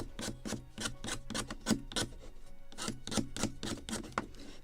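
A blade rasps rhythmically along a thin wooden spar, rough tapering and scraping for a model ship kit of the 1776 gunboat Philadelphia, quick repeated strokes, close and fairly quiet with no voices.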